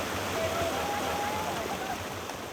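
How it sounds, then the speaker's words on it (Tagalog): Strong rush of polluted river water flowing through a stretch of river, a steady broadband roar that stays loud and even throughout, with a faint whistle-like tone briefly audible. "malakas ang ragasa ng maruming tubig"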